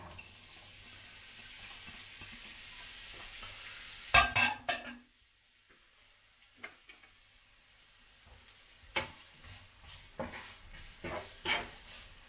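Onions frying in oil for goulash sizzle in a steady, faint hiss, broken by a few clattering stirs and kitchen clicks, with no voice heard.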